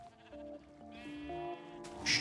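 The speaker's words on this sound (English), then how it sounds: "Well, what we do know is there are sheep here" Minecraft sheep bleating, several wavering baa calls overlapping at low volume, followed by a brief brighter burst near the end.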